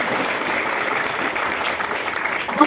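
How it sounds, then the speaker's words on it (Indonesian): An audience claps continuously at a gathering in a surau in Limboto, Gorontalo. The dense, even applause carries steadily to the end with no break. "Tepuk tangan lagi"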